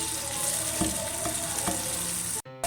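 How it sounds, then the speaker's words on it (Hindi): Garlic ginger paste, tomatoes and onion fry in a pan for beef keema, giving a continuous wet hiss and sizzle with faint clinks, steady and fairly close, no voices, ending in a sudden cut. "हमने लहसुन अदरक का पेस्ट, टमाटो और प्याज को हम इसको फ्राई कर रहे हैं"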